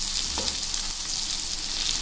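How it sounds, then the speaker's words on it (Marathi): Okra (bhindi) frying uncovered in a pan over low heat for a Maharashtrian stuffed bhindi dish, giving a steady, close, continuous sizzle with a faint stir near the start and no talking. "तुम्ही बघू शकता छान प्रकारे भेंडी फ्राय होती।"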